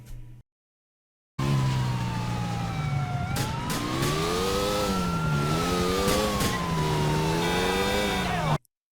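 Car accelerating in the video game GTA IV, a loud engine revving with rising and falling pitch as it speeds up, with a siren wailing alongside, starting abruptly after a brief silence and cutting off near the end.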